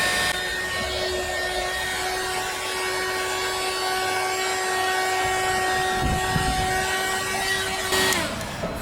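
Heat gun blowing steadily on heat shrink tubing during a Mercedes blind spot radar wiring repair, a continuous whining airflow hum that holds for about eight seconds, then cuts off.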